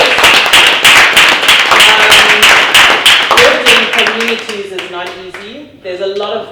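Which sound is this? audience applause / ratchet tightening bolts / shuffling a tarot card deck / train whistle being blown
audience applause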